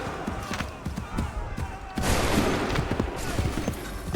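Musket volley from the Assassin's Creed 3 game: a sudden loud burst of massed gunfire crashes in midway, ringing over a continuous backdrop of battle noise and scattered shots, with voices shouting commands.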